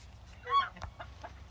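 A small backyard flock of barred rock chickens with a young cockerel clucks in short, soft bursts at moderate distance over a low outdoor rumble, with one brief louder call near the middle.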